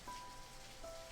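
Steady rain falling in a dense forest, a soft continuous hiss with two faint sustained tones drifting over it, no voices.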